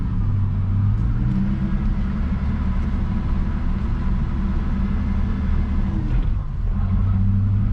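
A manual Holden Commodore SS engine with an idle fault drones and revs under load in second gear, a steady loud low rumble that dips briefly before picking back up.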